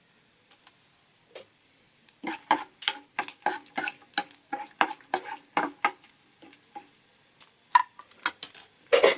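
Peanuts and chana dal frying in oil in a pan, heard as a steady run of sharp, close ticks and scraping clinks of stirring, irregular and denser toward the end, with no talk.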